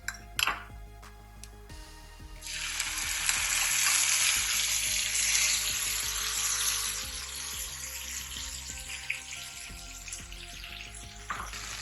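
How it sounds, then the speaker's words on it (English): Mustard seed paste for shrimp curry hits a hot pan with a few clinks, then settles into a steady loud sizzle and frying hiss that carries on for several seconds, with occasional utensil taps and no voices. "I've added the mustard seed paste in the pan."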